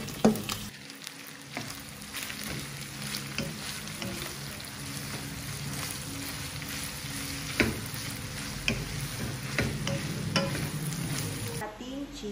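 Garlic, onion and ginger sauté in a pan with a steady sizzle and frequent stirring scrapes, heard up close and alone.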